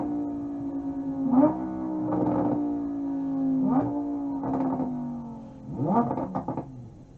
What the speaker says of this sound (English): I absolutely adore the backfire of this thing.